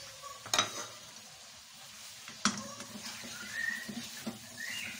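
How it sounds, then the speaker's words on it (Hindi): Tomatoes and ground spice masala frying in a pan, a quiet continuous sizzle punctuated by two sharp spoon-scraping stirs and softer stirring noises, with no talking. "अच्छी तरह इसमें भूनेंगे ताकि ये टमाटर इसमें अच्छी तरीके से गल जाए"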